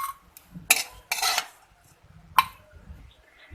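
Fried dried shrimp are scooped from a pan into a bowl, giving sharp metal-on-metal clinks and scrapes of a utensil against cookware in a few quick bursts, close and fairly loud, with quieter gaps of soft shuffling between.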